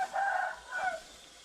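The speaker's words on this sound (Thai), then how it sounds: "เป็นไก่" A chicken gives two short clucking calls, close and fairly clear, with a brief pause between them and quiet background afterward.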